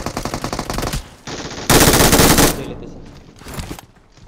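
Automatic gunfire in the BGMI mobile battle game, with rapid dense bursts that swell into a loud sustained volley before trailing off into scattered shots.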